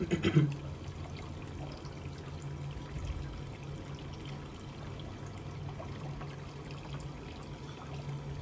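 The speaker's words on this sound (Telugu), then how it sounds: "సో కరెక్ట్గా 30 seconds వాటర్ రిలీజ్ చేస్తుంది" An automatic timer-controlled plant watering system releases a faint, steady trickle of water continuously after a brief knock at the start, low and even with no voices.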